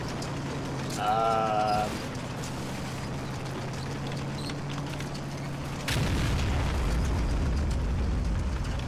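A Hummel self-propelled gun in a wartime game fires one heavy shot that lands as a sudden deep boom near six seconds, after a brief mechanical whine, with a short spoken word early on.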